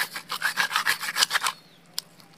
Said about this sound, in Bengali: এরকম গোটা মাছটাকে আমি এভাবে ঘষে নিব